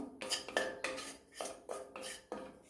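Gram flour dry-roasting over a slow flame in a pan with a little oil, a spatula scraping and clinking against the metal in about seven steady, rhythmic strokes, close up with no talk.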